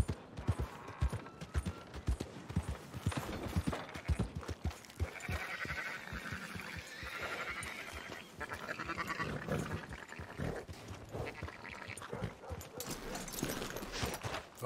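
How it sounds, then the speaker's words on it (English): Sheep bleat repeatedly in Red Dead Redemption 2 gameplay, mixed with steady hoof clip-clop from the herd and a faint voice talking in the background. "Fine sheep."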